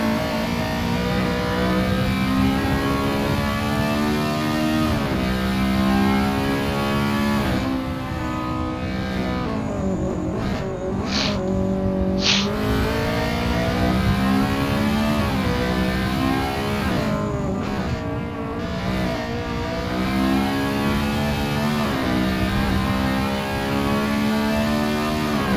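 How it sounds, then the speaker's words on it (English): Racing engines, including a Honda Civic, from a sim-racing game at Bushy Park Circuit: continuous loud revving that rises and falls through gear changes for the whole stretch, several cars close together. "He's all over the end of that Honda Civic now."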